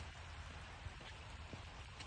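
Rain falling steadily, a faint even patter of drops on surfaces with a soft continuous hiss, heard quietly and with no voices.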